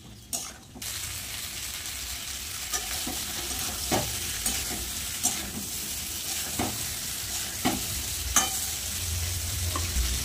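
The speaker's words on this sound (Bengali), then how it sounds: "ফুলকপি আলু মশলা দিয়ে ভালো করে কষিয়ে নেব আরেকবার।" Cauliflower, potatoes and spices sizzle in a frying pan while a spoon stirs and scrapes them, a steady fry punctuated by distinct scraping strokes every second or so, close and clear.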